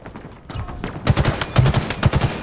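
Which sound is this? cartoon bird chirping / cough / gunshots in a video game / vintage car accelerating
gunshots in a video game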